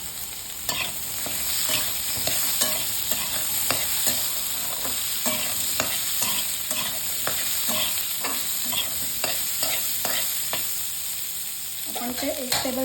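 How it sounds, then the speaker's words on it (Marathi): Vegetables with bell pepper sauté in a tablespoon of oil, crackling and sputtering steadily up close with repeated clicks of stirring against the pan and a hum underneath. "भाज्या भाजायला असं चटचट कसा आवाज येते बघा."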